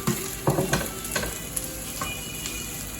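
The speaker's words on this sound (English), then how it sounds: "Put some onions, stir fry the onions." Onions stir-fry on a high flame, a constant loud sizzle broken by a few close scraping stirs of a spoon.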